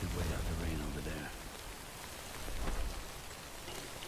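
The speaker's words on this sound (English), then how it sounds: "Could wait out the rain over there." Steady rain falling in the video game Death Stranding, a soft broadband hiss with a low rumble early on that swells again briefly midway, heard alone at moderate level.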